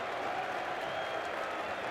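Test-match cricket crowd at Perth during England versus Australia Ashes play, England supporters of the Barmy Army, roaring and applauding as a steady, dense wash of cheering that stays loud and unbroken throughout.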